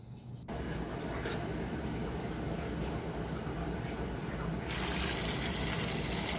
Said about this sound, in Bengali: বাটির মধ্যে আলু ধুয়ে রেখেছি, ওর মধ্যে জল দিলাম পরিমাণ মতন